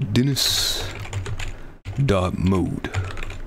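Typing on a computer keyboard during a Windows Server sign-in: quick runs of clicking keystrokes at close range, broken by a short pause, with someone talking over most of it.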